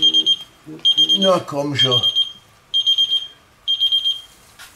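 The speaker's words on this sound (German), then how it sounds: "der kann natürlich diese Alarmfunktion komplett deaktivieren" GrillEye Pro+ grill thermometer temperature alarm beeping in short, evenly spaced bursts of bright electronic tones that repeat several times, with someone talking over the middle stretch.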